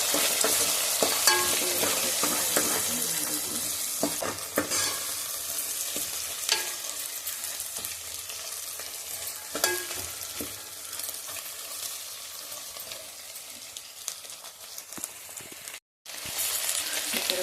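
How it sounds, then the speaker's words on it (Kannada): Eggs and pigeon peas fry in a pan with a steady broadband sizzle, broken by occasional stirring scrapes and knocks, close and continuous with no voices. "ಮೊಟ್ಟೆನ ಹಾಕ್ಕೊಂಡು ಚೆನ್ನಾಗಿ ಫ್ರೈ ಮಾಡಬೇಕು"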